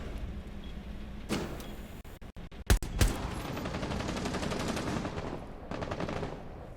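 Gunfire erupts as IQ shoots in a competitive tactical shooter: a sharp cluster of close reports, then a sustained rattling burst of rapid fire that runs for several seconds before stopping.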